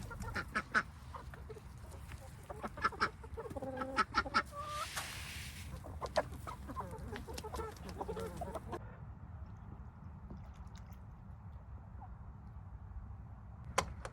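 Hens cluck and chatter inside a chicken coop, soft scattered calls over a steady low rumble with faint scratching and shuffling, quieter toward the end.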